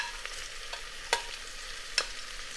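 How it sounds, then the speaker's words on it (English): Onions, green chillies and garlic are stirred in a pan: a quiet sizzle with a few distinct scraping clacks of the spoon, no voices. "We give this all a good mix."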